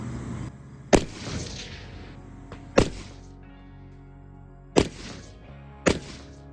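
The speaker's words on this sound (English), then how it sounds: "I'm about to take 4 shots at the target right above the one that we shot with the mil-spec trigger" Four sharp AR-15 rifle shots fitted with a CMC drop-in trigger, spaced about one to two seconds apart, each loud and close with a short ringing decay, fired at a target outdoors.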